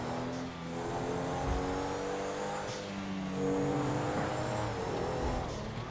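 Stock unmarked admin car with lights but no siren accelerating in a GTA roleplay game, engine revving steadily and climbing in pitch through gear changes, fairly close and without voices.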